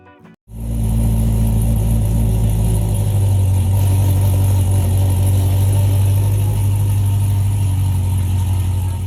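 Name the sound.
1966 Corvette with LT4 engine running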